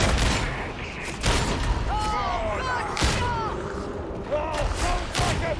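A flashbang detonates in Darktide amid a dense, loud barrage of gunfire and booming blasts, with several sharp cracks standing out and voices talking over the chaos.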